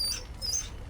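A dog in the Dragon Age video game gives a brief, faint whimpering whine, two thin high squeaks over a low background hum.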